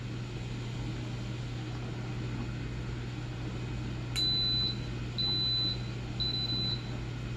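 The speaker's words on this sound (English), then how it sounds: "It'll beep when it accepts it." An Instant Pot beeps three times in even succession, each a clear, sustained electronic tone, after its sauté setting is selected, over a constant low hum in a quiet kitchen.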